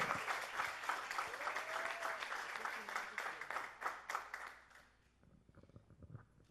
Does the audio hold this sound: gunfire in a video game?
no